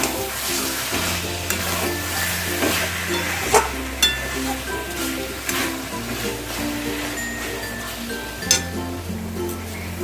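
Kadhai chicken being stirred in a pan over a high gas flame, with continuous close frying sizzle, a spatula scraping and clinking against the metal at irregular intervals, and an underlying hum.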